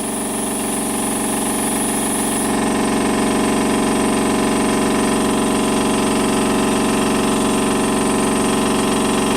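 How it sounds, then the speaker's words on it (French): A Stuart D10 double steam engine driving a water pump runs steadily and loud, a dense continuous mechanical chugging with a fast rhythmic beat and no pauses. "la pompe fait son travail de manière tout à fait correcte"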